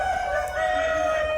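A rooster on the MHC Kayat poultry farm, a desi cross bird, crows in one long drawn-out call, loud and fairly close, with faint background farm noise.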